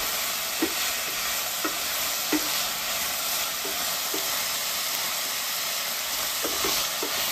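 Pork and tomatoes stir-frying for sweet and sour pork give off a steady loud sizzle and hiss in the pan, broken by occasional soft clinks and taps from tossing, close up with no voices.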